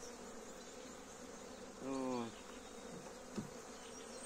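Honey bees droning steadily at a beehive during early April spring hive expansion, a faint continuous buzz with one short word spoken nearby and a soft tap.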